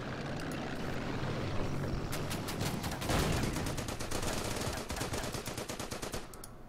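Sustained machine-gun fire in the wargame Order of Battle, a US Marines battle in the Marshall Islands, with rapid repeated bursts over a rumbling aircraft-like drone, loud and continuous.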